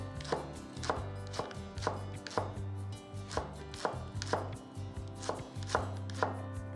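A knife chops green onion on a cutting board in a steady rhythm of crisp, evenly spaced strikes, close and distinct, with no talking.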